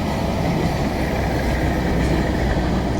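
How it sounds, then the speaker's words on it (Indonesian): A train coming from the Bandung direction crosses the long Cikubang railway bridge, giving a loud, steady, continuous rumble that fills the whole moment with no voices. "Nah ini dia ada kereta lewat dari arah Bandung ini."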